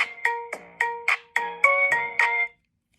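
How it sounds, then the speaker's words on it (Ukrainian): A bright electronic ringtone plays a quick repeating melody of short plucked notes, loud and close, then stops abruptly. "Мені хтось дзвонить."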